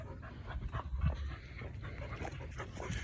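Dogs pant rapidly and close by on a hiking trail, a quiet rhythmic huffing with faint whimpers and footsteps over soft outdoor background noise.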